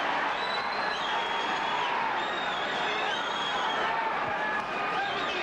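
Boxing crowd at the Thomas Hearns vs Iran Barkley fight, a dense, steady roar of cheering and whoops filling the arena, loud and sustained throughout with no pauses.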